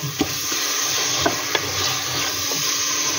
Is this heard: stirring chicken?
yes